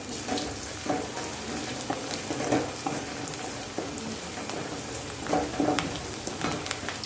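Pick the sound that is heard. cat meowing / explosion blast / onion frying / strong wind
onion frying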